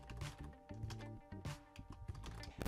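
Fingers type on a computer keyboard in a quiet room, a close, uneven run of soft clicking keystrokes with brief pauses over several seconds.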